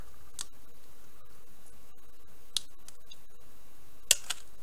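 Scissors snip through clear rhinestone trim, a few sharp, close clicks spread apart over quiet room tone, with the loudest snip near the end.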